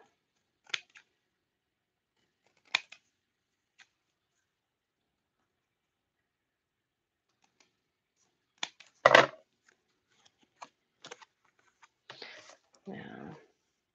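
Scissors cutting card for handmade holiday cards, heard as a few sparse close snips and crisp paper crackles separated by quiet gaps, ending in a short rustling cluster.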